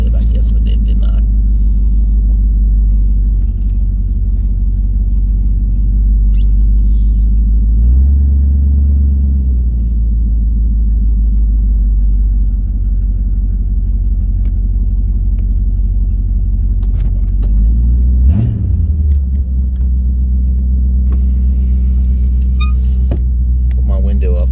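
A 1970 Chevelle holds a steady, loud low rumble throughout, with heavier surges of engine revving around the middle and again near the end, all continuous and close.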